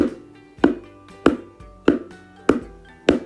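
Six evenly spaced deep dum strokes on a rebana hand drum, each a resonant low thump with a quick decay, played alone at a steady moderate pace.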